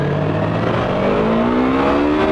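A Yamaha YZF-R3 motorcycle accelerates at about two-thirds throttle, its engine note climbing smoothly and steadily in pitch, loud and close throughout.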